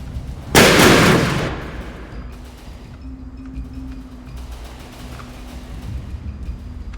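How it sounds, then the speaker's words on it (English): A missile volley strikes a tank in a video game with one loud, sudden blast that fades over about a second into a low, quieter rumble of game ambience. "Another volley of missiles, and doesn't do that much damage really"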